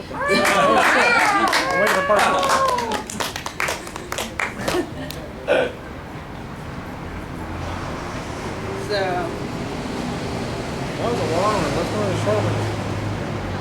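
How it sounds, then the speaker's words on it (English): A small audience at a fiction reading in a bar claps for a few seconds, a sparse, uneven patter mixed with voices and laughter, before the room settles into quieter murmuring and talk. "You could clap if you feel like it."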